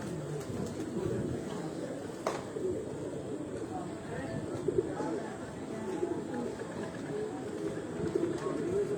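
Pigeons at a Gujranwala breeder's loft coo softly and repeatedly over a steady background hum, with a few faint clicks and rustles nearby.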